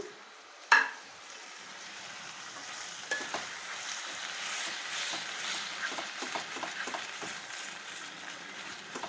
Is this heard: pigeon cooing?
no